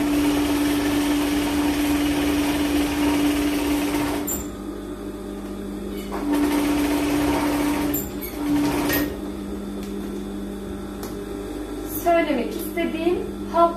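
A sewing machine stitches knitwear, its motor humming in on-and-off runs with mechanical clatter between them, and a voice can be heard alongside.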